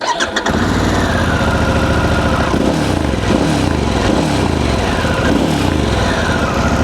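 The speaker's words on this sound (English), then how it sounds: "This is branded as a Screamin' Eagle titanium exhaust, and it's got a little bit of growl to it" A Harley-Davidson Pan America motorcycle engine with a Screamin' Eagle titanium exhaust starts and settles into a loud, throaty idle with a deep growling exhaust rumble, close by and continuous.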